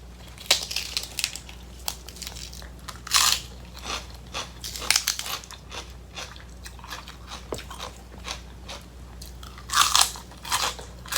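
Crisp, crunchy chewing of seafood wrapped in leaves with crispy sweet peppers, close up, with repeated bites and crunches coming in bursts over a low steady hum, no talking.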